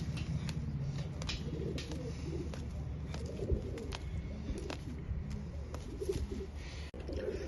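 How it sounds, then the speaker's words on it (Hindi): Pigeons cooing nearby in a low, throaty, repeated rhythm against a steady background hum, with a few faint clicks and rustles. "ये मोहसिन भाई के पास कबूतर 8 कली में आया है"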